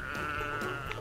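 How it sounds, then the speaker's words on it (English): A single sustained sheep bleat in a video game, loud and close, with a wavering nasal tone lasting about a second and no talk over it. "there's my final sheep"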